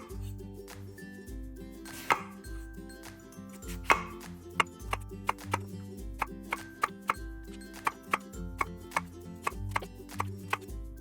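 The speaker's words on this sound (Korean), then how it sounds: "먼저 꼭지를 잘라주시고 길이로 6cm 정도로 썰어서 3등분하고 다시 3등분 해주세요" A knife chops a slender eggplant into small pieces on a cutting board, sounding as a steady run of crisp, close chops that quicken toward the end, with soft background music underneath.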